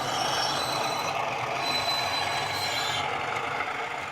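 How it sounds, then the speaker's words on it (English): An Accurascale Class 31 00 gauge model locomotive rounds a curve while its onboard sound plays a continuous high, thin flange squeal over a steady mechanical rumble. "when it goes around a curve, it automatically triggers the flange squeal sound"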